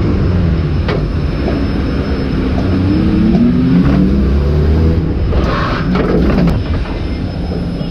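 A stock car engine drones loudly and steadily at the start of a first heat in rainy conditions, with a broad rumble that holds for the whole stretch.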